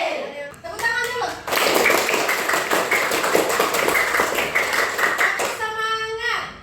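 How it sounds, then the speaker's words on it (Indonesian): Children clapping hands together in a classroom, a burst of fast, loud, closely packed claps in the middle lasting a few seconds, with a voice and a teacher speaking before and after. "Tepuk tangan dulu"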